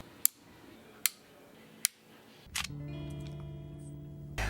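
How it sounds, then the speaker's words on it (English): A compensator on a Springfield Hellcat RDP 3.8 pistol snaps into place with three sharp, crisp clicks, spaced about a second apart, followed by a louder handling clack and soft tonal background sounds. "It is also very satisfying when that compensator clicks right into place."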